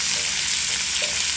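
Tomato and green chilies hitting hot oil for egg keema, a steady close sizzle of frying that stays even and unbroken through the short moment, with no voices.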